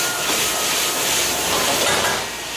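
Yellow throat (beef aorta) sizzles loudly in a hot wok with chili oil, vinegar and soy sauce as it is stir-fried for a Sichuan dish, a dense continuous hiss and crackle with scraping.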